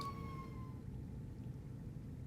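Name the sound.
sirens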